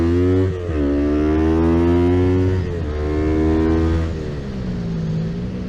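A sport bike, compared against a Ninja 250, revs hard and pulls from a standstill up to about 50, its engine note climbing steadily through the gears with brief dips at each shift, loud and close throughout.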